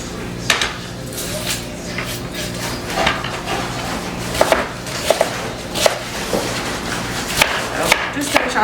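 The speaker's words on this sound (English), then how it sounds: "Chop these kind of rough cut here" Onions are rough-cut with a knife on a cutting board: irregular sharp knocks, some in quick pairs, sound close and moderately loud while someone talks over them in a kitchen.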